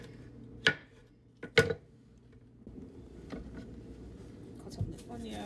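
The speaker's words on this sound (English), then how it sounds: "Cut up the onion." A knife chops onion on a cutting board in a home kitchen, two or three sharp, close knocks early on followed by quieter cutting noises, with a voice speaking softly underneath.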